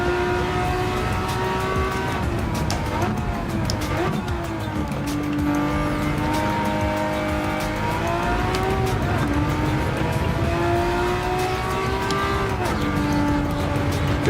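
In Gran Turismo 7, a Ferrari Testarossa's engine races steadily, its pitch rising and falling through gear changes as a car tears along the track, with faint tire squeal mixed in.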